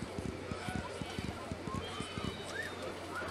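Rhythmic hoofbeats of a horse galloping in the video game Silver Buckle Stables during a barrel-racing run, a steady clip-clop under game ambience with other sounds in the background.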